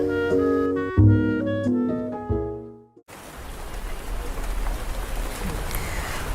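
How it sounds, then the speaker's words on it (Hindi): After a short piano passage ends abruptly, heavy rain pours down in a dense, continuous hiss, steady and fairly loud for the remaining seconds. "बारिश ज़ोरों पर है"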